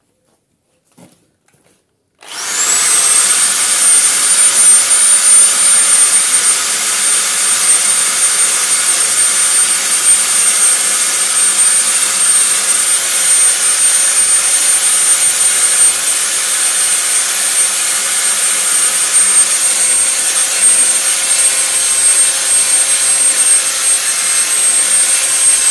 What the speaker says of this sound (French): branchez-vous bien sur une perceuse filaire et pas sur une visseuse à batterie